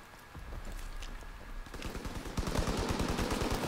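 Rapid automatic gunfire from a weapon in the World War II shooter Call of Duty WW2, sustained bursts that grow louder and denser over a steady game background, no voices.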